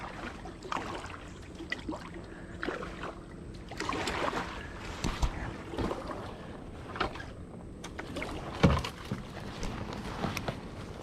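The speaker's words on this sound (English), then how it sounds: "I'm gonna see if I can paddle out, and this is the street right ahead of us." Paddling a small boat through a flooded street in a hometown neighborhood, with irregular watery splashes and strokes under steady wind noise and one sharper knock near the end.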